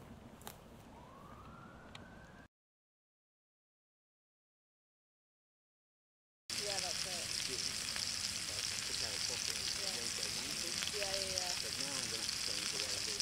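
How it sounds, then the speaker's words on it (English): A steady, dense sizzle of wild boar pork burgers frying in a skillet on an Anevay Frontier wood stove outdoors fills the clip after a brief silent gap, with faint chirps and rustles in the background. "The sound of wild boar pork burgers sizzling."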